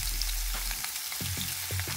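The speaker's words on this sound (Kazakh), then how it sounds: "Майымыз қызғаннан кейін жуамызды саламыз." Onions sizzle in heated oil in a frying pan, a close and steady hiss broken by a few soft knocks as the pan is stirred.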